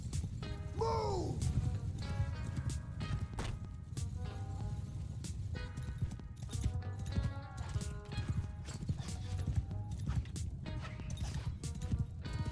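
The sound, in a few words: horse hooves galloping in Bannerlord video game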